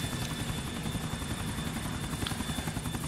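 Police EC145 helicopter on patrol over an airport runway, its rotor thudding steadily and continuously with a loud, close engine whine, no voices.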